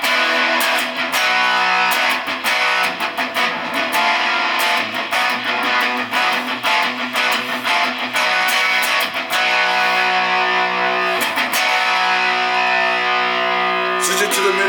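Distorted electric guitar played through an Ibanez bridge humbucker on a refurbished guitar, strummed chords and riffs ringing loud and steady with effects, a dense gritty tone sustained throughout without pauses.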